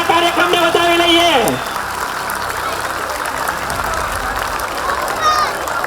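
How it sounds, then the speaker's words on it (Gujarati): A crowd applauds at a community gathering held by a Surat family youth association. The broad, dense clapping takes over after a brief musical opening and keeps going at a fairly loud, even level. "બંને હાથ ઊંચા કરી અને માતાજીને યાદ કરી જોરદાર તાળીઓના ગડગડાટથી આ કાર્યક્રમને વધાવી લઈએ"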